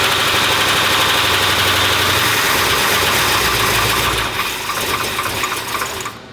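An engine run for the first time on new fuel churns loudly and steadily at a rough idle, close up, with a slight drop in intensity toward the end.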